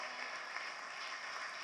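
Sunday morning church congregation clapping loudly, a steady, even roar of many hands at full strength with no pauses.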